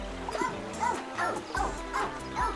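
Cartoonish dogs bark in the puzzle video game Phogs, giving five evenly spaced short yips over a low background hum, with faint talk around them.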